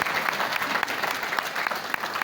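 Audience applause at a live Punjabi talk, dense sustained clapping from a sizable crowd, loud and close, with no pauses.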